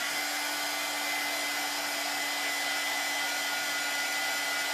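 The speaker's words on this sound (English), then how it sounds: "give this a blow dry" A hair dryer blows steadily on a craft project, a loud, constant whooshing hum with a faint motor whine that holds unchanged throughout.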